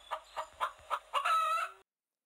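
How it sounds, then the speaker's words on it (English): A hen clucks in a short run of four evenly spaced clucks followed by a longer drawn-out call, close and clear with no other sounds, in a children's farm-animal read-along. "When Clucky clucks"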